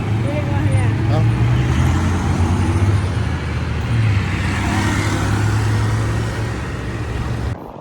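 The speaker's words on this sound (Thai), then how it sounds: "ขี่รถกลับ3พ่อแม่ลูกขี่รถจักรคือเก่าเนาะ" An old motorcycle carries a family of three along a road, its engine a steady low drone with road noise, loud and continuous throughout.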